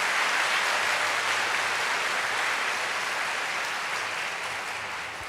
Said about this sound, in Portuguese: Isso aqui tem que bater palmas